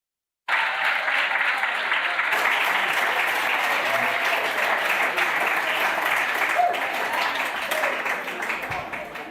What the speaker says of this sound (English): thank you very much for the clap